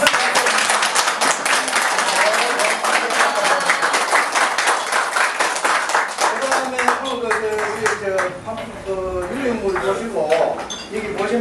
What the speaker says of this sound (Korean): 우리 강민수 사장님한테 자 박수!